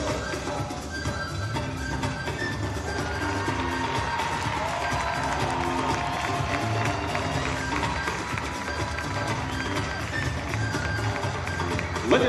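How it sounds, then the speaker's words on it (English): Sustained crowd cheering and applause filling an arena at a collegiate gymnastics meet, UNC Tar Heels hosting William & Mary, steady and dense throughout with no clear gaps. "Let's get you and hop on one more large round of applause for Tar Heel senior Lily D."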